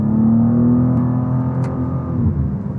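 A 2023 BMW M2 in full manual mode revs hard under acceleration, a loud, steady engine drone with rising harmonics filling the clip, close and continuous with no voices.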